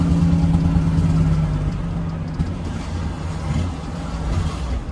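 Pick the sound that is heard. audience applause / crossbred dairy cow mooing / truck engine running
truck engine running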